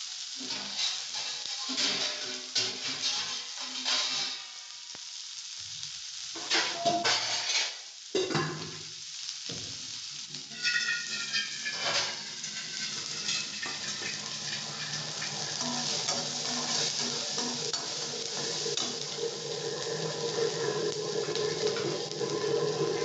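Crushed garlic cloves sauté in a hot pan for sambar, giving a steady close sizzle with scraping stirs and clatter early on, the frying hiss growing more even as it continues.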